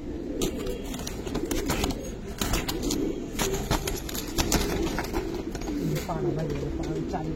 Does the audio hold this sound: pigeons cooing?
yes